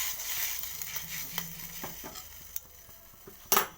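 Sugar, salt and lemon juice stirred together in a bowl for dhokla: soft swishing strokes with scattered light clinks of a spoon against the vessel, ending in a sharp louder knock.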